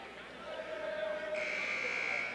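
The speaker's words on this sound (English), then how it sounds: "You can hear the Haslett crowd chanting air ball" Haslett basketball crowd at the Haslett vs. Laingsburg game chanting a sing-song two-note taunt, the lower note held first and then a higher one, somewhat distant over a hollow gym ambience.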